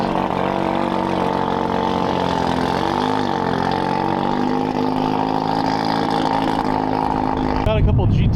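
A Honda NSX sports car at an indoor tuner car show held at a baseball Top Golf venue, its engine giving a steady, loud droning hum for several seconds before a brief shift in tone near the end.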